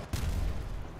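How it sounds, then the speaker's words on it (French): A tank explosion in the video game Enlisted, a sudden deep booming blast with a rumbling low tail after a brief quiet start, loud and close, no voices. "Ah bah j'ai pris une explosion de tank."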